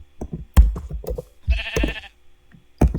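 Sheep bleat in a video game, several short bleats scattered over a few seconds with one longer, wavering bleat in the middle, close and fairly clear, with knocking thumps between.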